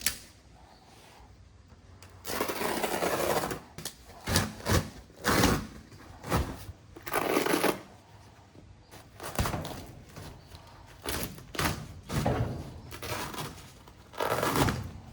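Old, smelly carpet is ripped up from the floor of a house in repeated rough tearing and scraping bursts separated by quieter pauses, moderately close, with no speech.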